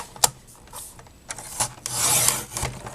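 A paper trimmer slices through a sheet of paper with a few short scraping swipes and clicks, then one longer rasping cut, all close and moderately quiet.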